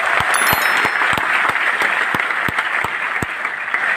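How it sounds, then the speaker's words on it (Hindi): Loud, dense applause from an audience at a large meet-up event in Patna, a thick steady roar of clapping with several sharp individual claps standing out near the front, sustained throughout. "एक बार जबरदस्त तालियां हो जाए।"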